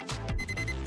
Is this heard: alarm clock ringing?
yes